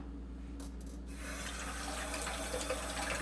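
Kitchen tap turns on and runs steadily into a sink, a close, constant hiss of flowing water after a brief quiet start over a low background hum.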